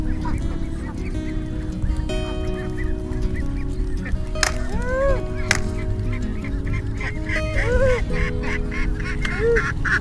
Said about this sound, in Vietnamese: Đó, vịt bắt đầu di chuyển qua bên đây.